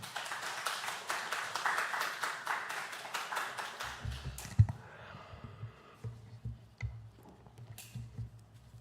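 A church congregation claps in welcome for a visiting pastor at a Sunday morning service, a faint, scattered patter that fades after a few seconds into quiet room noise and low rumble.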